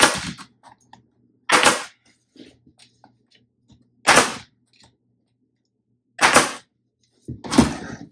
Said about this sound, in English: That's to keep the wood from bouncing back and not letting the staple all the way in.